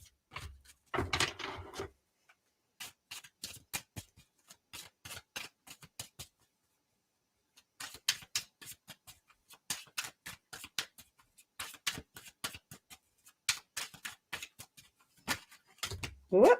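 Tarot cards being shuffled in a loose, sloppy way, producing bursts of quick riffling and clicking rustles at close range, separated by short pauses, with a brief spoken voice near the start and end.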